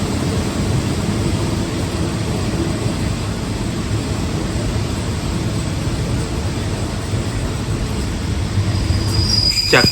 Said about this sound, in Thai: รถก็กลับมาถึงสายรถไฟพัทยาแล้วครับ